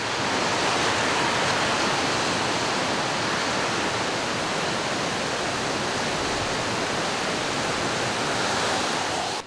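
The Tavo river near Moscufo, Italy, in flood after heavy rain, a loud, dense, continuous rush of churning water with no pause and no voices.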